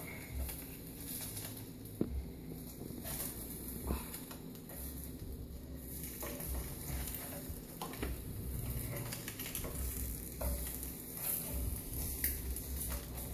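Egg and meat frying in a pan as a spoon breaks them apart, with a steady sizzle under irregular scraping and tapping of the spoon against the pan, heard up close.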